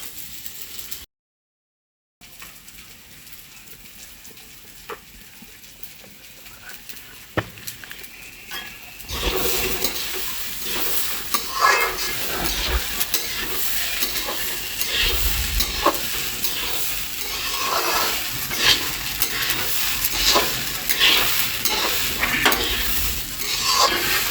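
Rice for basanti pulao frying and being stirred in a pan: a quiet low sizzle at first, then after a short gap a louder, busier crackle with scraping stirs that carries on to the end.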